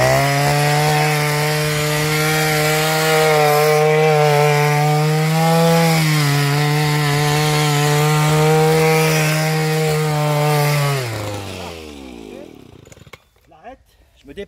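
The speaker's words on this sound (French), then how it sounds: "Hop, je vais rallumer ma tarière. Alors, bouchez-vous les oreilles parce que ça fait un bruit de tous les diables" A motorized earth auger drills holes into clay-limestone soil for planting a tree, its loud, steady engine drone holding for about eleven seconds before winding down and cutting out, leaving brief quiet handling noises.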